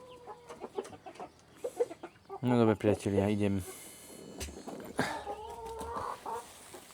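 Young hens clucking in short bursts amid other farmyard noise, with someone talking nearby over and between the calls.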